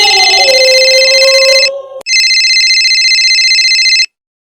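A phone rings loudly as a call goes out: a tonal ring for nearly two seconds, a brief gap, then a steady electronic ringback tone that cuts off abruptly.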